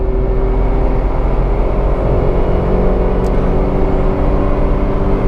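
A Tata Altroz 1.2-litre petrol car accelerates hard through its gears, its engine a steady, loud, continuous drone that holds throughout with no voices.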